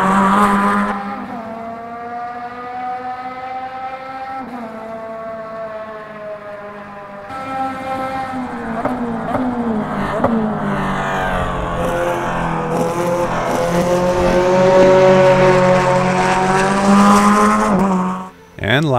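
A GTE race car engine in the racing sim Automobilista 2 roars from an external view with a loud, harmonic drone. It holds a steady pitch, then revs and climbs through the gears before cutting sharply near the end.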